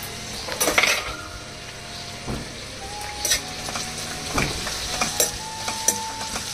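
Onion pieces frying in a pan for Konaseema-style chicken pulao, with steady sizzling, occasional stirring scrapes and light clinks of utensils against the pan, close and moderately loud with no talking.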